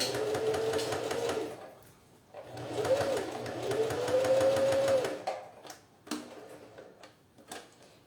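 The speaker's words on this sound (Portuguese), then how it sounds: "eu vou costurando bem na beiradinha" A sewing machine stitches along the edge of a phone holder with two zippers, its steady whirring motor running in long bursts with brief pauses and slowing at the end; someone speaks quietly at times over it.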